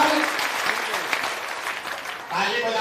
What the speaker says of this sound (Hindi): अब ताली बजाने का बारी है